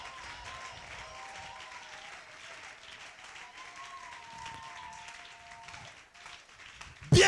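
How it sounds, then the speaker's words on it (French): A church congregation applauding during worship, steady sustained clapping at moderate distance with a faint melodic tone drifting over it. "Acclamons Jésus"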